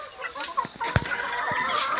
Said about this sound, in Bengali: যে মুরগিরা খাচ্ছে,